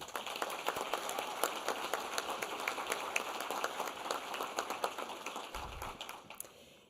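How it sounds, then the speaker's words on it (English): Quiet audience applause at an emergency medicine awards ceremony, scattered distinct claps from a moderate crowd, sounding a little distant and thinning out toward the end. "Please join me in a huge round of applause for Dr. LaFollette and the program committee"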